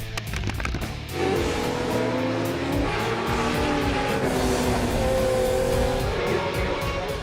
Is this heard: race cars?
yes